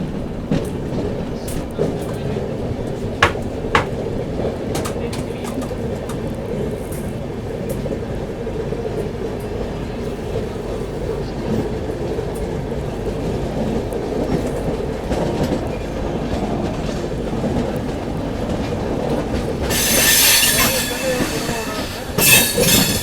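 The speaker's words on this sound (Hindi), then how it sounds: "चलिए अपनी विभूति एक्सप्रेस दोस्तों डिपार्चर ले चुकी है काशी रेलवे स्टेशन से।" The 13047 Vibhuti Express passenger train, running between Howrah and Prayagraj Rambagh, rolls out of Kashi railway station with a steady rail rumble and scattered wheel clicks, then a brief, sharp metallic squeal near the end.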